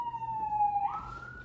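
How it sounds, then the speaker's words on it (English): A distant emergency siren wails faintly in the background, its tone sliding down and then back up within a second and a half. "I had some sirens in the background."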